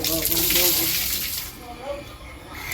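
Water splashes and pours close by during a soapy bath, a continuous wet gush that eases off partway through, with a voice faintly present.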